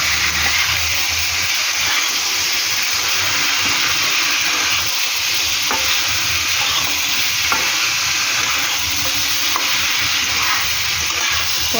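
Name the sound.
stirring tomatoes frying in a pan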